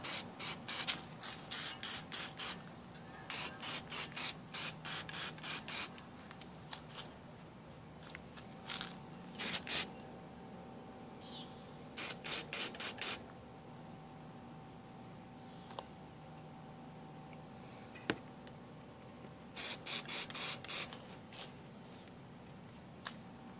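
Aerosol spray paint applied to a motorcycle reflector for a 2011–2014 Kawasaki ZX10R, in short hissing bursts of about a second each, repeated in clusters with quiet gaps and a steady background hum.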